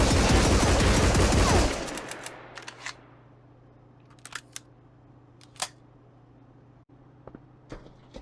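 Rifle shots from the Marauders video game fired while aiming down sights: a dense, loud burst of rapid fire that stops abruptly, leaving a low hum and a few scattered sharp clicks and taps.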